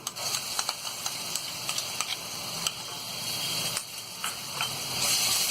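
Ginger garlic paste sizzles steadily in a hot pan, with faint ticks and scraping from stirring over a crackling background.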